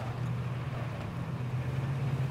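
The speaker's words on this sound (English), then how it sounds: "There's another car coming." A steady low engine rumble of a car in a video game, like a car driving nearby, holds at a constant level throughout.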